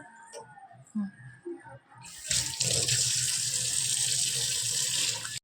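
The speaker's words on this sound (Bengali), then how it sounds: "আচ্ছা চলো, হাত ধুয়ে দিচ্ছি" Tap water running into a sink while hands are washed, a steady close hiss of flowing water starting suddenly after some quiet household bumps and clicks.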